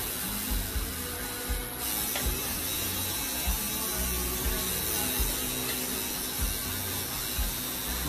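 A Lucas Ford tattoo machine hums steadily up close, its electric buzz continuous through the whole stretch with faint regular pulses and no talking.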